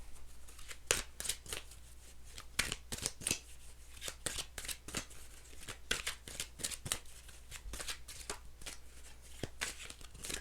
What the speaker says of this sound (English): Let's pull these other true crime cards real quick.